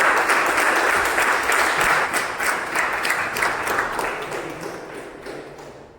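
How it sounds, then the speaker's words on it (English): Full audience applause at a Toastmasters speech meeting welcoming the next evaluator, dense sustained clapping from a room of people that gradually thins and fades toward the end. "With a huge round of applause, let's welcome Toastmaster Abhineet."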